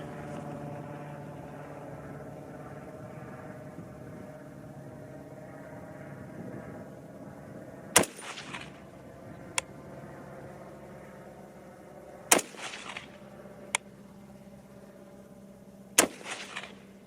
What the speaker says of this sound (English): so here we go with 3 shots